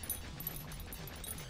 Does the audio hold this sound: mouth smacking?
no